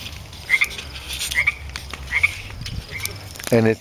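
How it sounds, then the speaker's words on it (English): A frog croaks about four times in a slow, regular rhythm, each call short and fairly close, with a louder, rougher croak at the end. "the frog is practicing its ribbit, isn't it?"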